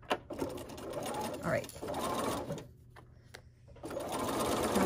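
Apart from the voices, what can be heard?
sewing machine stitching a quilt block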